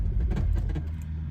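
A 2009 Chrysler Town & Country minivan with a stuck torque converter solenoid gives a single short, dull clunk as it is shifted into drive, muffled and close, amid low cabin rumble and no talking.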